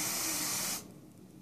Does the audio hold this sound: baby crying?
no